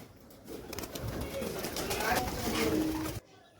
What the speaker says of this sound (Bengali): কত পায়রা পিসির ছাদে।